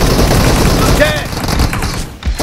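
Rapid bursts of gunfire from a team deathmatch video game, loud and dense across the whole moment, with a faint game voice mixed into the shooting.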